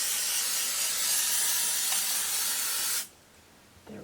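Aerosol spray adhesive hisses steadily onto quilt batting for about three seconds in one continuous close burst, then cuts off abruptly, leaving near silence and a faint handling sound.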